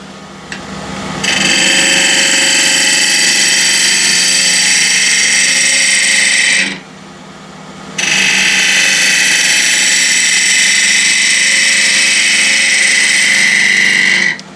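An ash cross-grain box spins on a wood lathe while a 1/2-inch spindle gouge shapes its outside, giving a loud, steady hissing cut that runs for about six seconds, pauses briefly, then resumes just as long.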